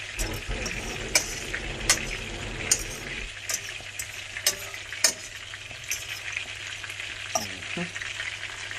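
Shrimp frying in a pan, a steady crackling sizzle with occasional sharp pops and utensil clicks as they are stirred, close and clear with no talking.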